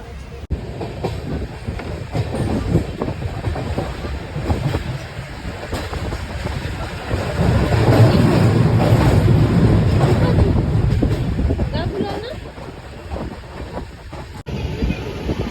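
A Kolkata local train leaving Sealdah rumbles steadily with rattling carriages and wheel clatter, growing louder and heavier midway before easing off again.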